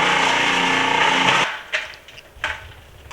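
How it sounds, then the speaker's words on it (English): A food processor grates white cheese with a loud, dense motor whir and grinding for about a second and a half, then cuts off, leaving a few light clatters and taps. "We'll start grating the white cheese, using a food processor to save time."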